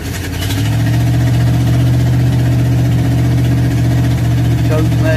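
A small carbureted engine running steadily without a choke fitted, a loud continuous idle with a strong low hum throughout, close to the listener.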